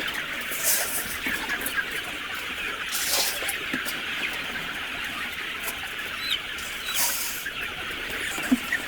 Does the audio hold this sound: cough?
no